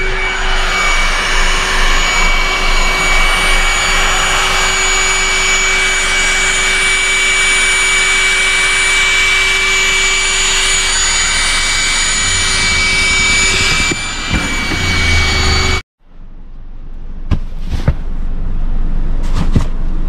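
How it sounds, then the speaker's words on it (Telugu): An electric air pump inflating a car air bed mattress drones loudly and steadily with a sustained tonal whine for about sixteen seconds, then cuts off abruptly, followed by a few faint clicks and rustles. "సో ఇది పెట్టేశాను పంపు దీనికి. సో ఇప్పుడు ఫిల్ చేద్దాము."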